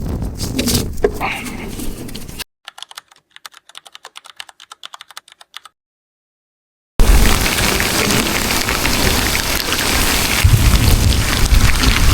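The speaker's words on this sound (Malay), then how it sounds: "yang kita mancing ni hujan" Rain falls at a grouper fishing spot on an island, a steady broadband patter at the start and again loudly at the end, separated by a stretch of sparse ticking and then near silence.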